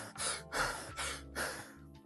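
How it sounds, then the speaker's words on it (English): Someone breathes through the mouth rapidly and deeply into the chest, making four loud, close, rhythmic breaths, each a heavy airy rush with brief pauses between. "if we breathe through the mouth really fast in our chest"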